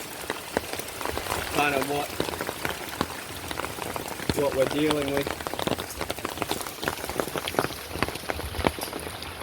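Heavy rain from a cyclone pours down with a dense, steady patter close by, while someone talks over it in two short bursts.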